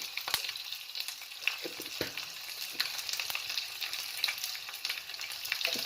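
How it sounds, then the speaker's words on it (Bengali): Mustard seeds, curry leaves and urad dal fry in hot oil as a tempering for chutney, giving a soft, steady crackle dotted with sharp pops and spits, close and fairly quiet, with no voices. "সর্ষে আর একটু উড়ার ডাল বা বিউলির ডাল ফড়নে দিলাম"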